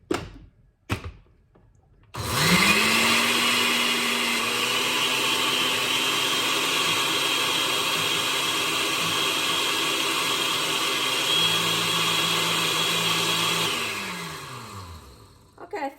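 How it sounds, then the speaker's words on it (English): A kitchen blender whirs up and grinds dried shrimp into shrimp flour, a loud, steady motor whine running about twelve seconds with a slight shift in pitch near the end before spinning down, with a few knocks before it starts. "And now I blend it"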